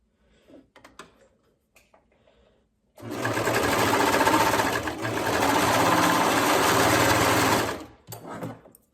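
A domestic sewing machine runs in one steady, fairly loud burst of several seconds, stitching the short end of a ribbed knit neckband placed right sides together, with quiet handling noises before and after.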